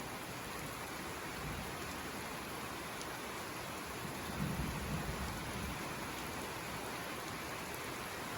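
Heavy rain pours on the eroding hillside road at Bukit Batu Jomba, a dense continuous hiss with low thunder rumbling in the middle, and no voices.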